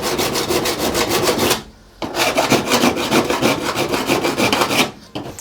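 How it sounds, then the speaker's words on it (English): Steel hand file rasping along the outer edge of a bonded vehicle window, steady close back-and-forth strokes in two long runs separated by a brief pause, loud and alone. "If I just file the outside a little bit, this will sit within the edging."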